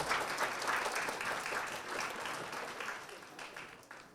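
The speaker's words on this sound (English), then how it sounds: "please give a round of applause for Gautam Prakash." Dinner party guests at a book launch give a round of applause that sounds somewhat distant and gradually tapers off over a few seconds.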